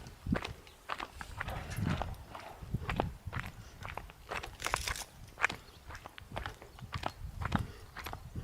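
Hooves clop steadily on hard ground as a horse walks at an unhurried pace, the footfalls close and fairly quiet with faint background noise.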